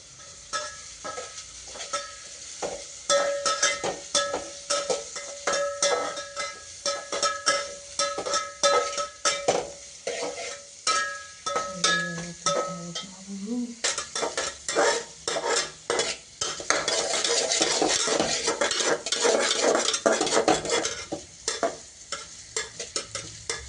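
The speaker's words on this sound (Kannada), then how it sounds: "ಈಗ ಬ್ರೌನ್ ಮಾಡೋ ಮಟ್ಟ ಈರುಳ್ಳಿನ ಫ್ರೈ ಮಾಡಬೇಕು" Onions being fried until brown in a pan for dhaba-style egg rice. A spatula scrapes and stirs in a quick, uneven rhythm over a steady sizzle, and the frying grows louder and denser toward the end.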